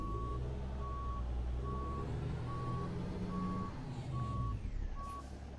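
Steady truck reversing beeps in the video game American Truck Simulator repeat at an even pace over a constant low engine rumble, the beeping clear and regular throughout.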